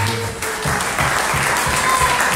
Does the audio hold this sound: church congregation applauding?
yes